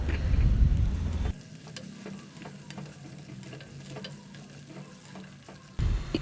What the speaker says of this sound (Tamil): இப்போ இந்த முள்ளங்கியை நம்ம இந்த எண்ணெயிலே நல்லா வதக்கிக்கலாம்